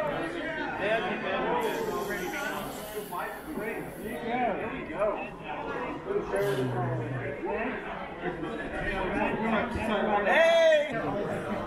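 Dense crowd chatter fills a large indoor trading hall at a model train convention, many overlapping voices murmuring steadily and close throughout, with a few brief brighter sounds poking through near the end.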